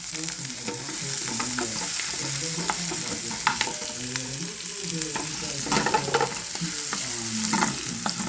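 Onions cooking down in a couple of tablespoons of olive oil as a risotto base, sizzling steadily and close with repeated scraping stir strokes throughout.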